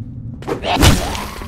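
A heavy, dull impact thuds close and loud, with a crunching thump layered over a low rumble, as a spiked baseball bat strikes a zombie in the video game Zompiercer.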